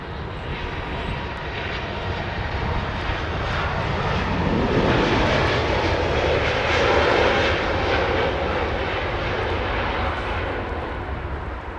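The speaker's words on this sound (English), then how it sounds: "Oh, this is the Swiss 320 Neo" A Swiss Airbus A320neo at London Heathrow gives a continuous, loud engine roar that swells gently in the middle and then eases, with no other sounds over it.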